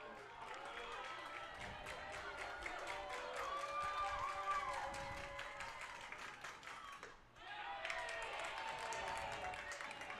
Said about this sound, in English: The crowd very vocal right now in support of the Johnson Royals.